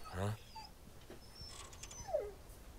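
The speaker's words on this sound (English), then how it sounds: "I hear a dog. It's right there." A dog whimpers in Resident Evil 4, with a short loud whine at the start, then faint quiet yelps and a rising whine near the end over low game ambience.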